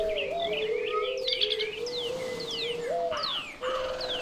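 Birds chirping in a tree in a modded Minecraft world, overlapping bright chirps and rising tweets mixed with lower cooing calls, steady and fairly close with no voices.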